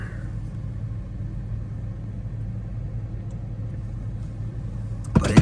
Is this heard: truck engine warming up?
yes